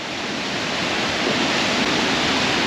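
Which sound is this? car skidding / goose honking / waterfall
waterfall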